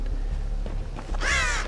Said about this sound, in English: Stupid snitching crows.